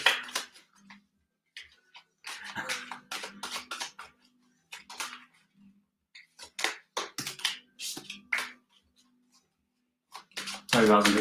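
Tarot cards are shuffled in quick bursts of crisp riffling and tapping, close and intermittent across several seconds with short pauses in between, under soft low murmuring.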